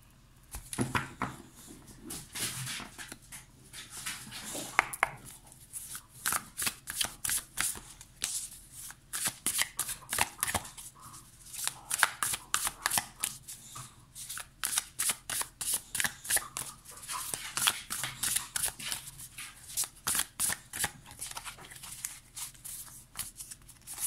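A deck of Muse Tarot cards is shuffled over and over, giving soft, close papery riffles and flicks in irregular bursts with brief pauses. The shuffling goes on for about twenty seconds at a quiet level, with no speech.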